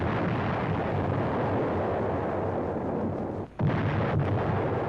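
WWII 155 mm artillery gun shelling a Japanese stronghold at Munda Point, a dense, rumbling roar of bombardment that continues throughout, broken only by a brief dip before resuming.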